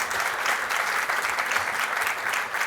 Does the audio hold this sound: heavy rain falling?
no